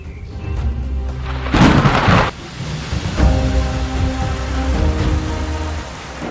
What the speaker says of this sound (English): When the rains return, green shoots burst from the soil